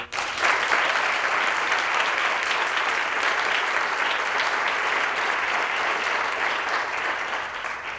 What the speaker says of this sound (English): Please give our talented guests another round of applause